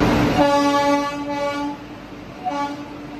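A train horn blares loudly in a long sustained tone at a railway station, breaks off, then sounds again briefly, with rumbling rail noise underneath; the train is the 12320 Gwalior–Kolkata Superfast Express.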